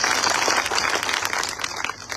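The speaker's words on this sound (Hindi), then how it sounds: "आप सब जोरदार तालियां बजाएं" A crowd at a political rally applauds a speaker, a loud, dense wash of clapping that holds steady for the whole stretch.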